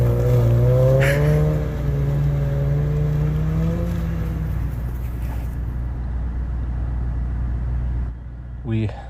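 A 253hp turbocharged Mazda Miata does donuts on snow. The engine revs in a rising and falling whine, then settles into a lower rumble and dies down near the end, with a voice talking under it.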